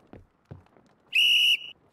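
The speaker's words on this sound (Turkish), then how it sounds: "Düdük'le beraber." A single loud referee whistle blast lasting about half a second sounds alone to start play in a team game, preceded by a couple of faint thumps.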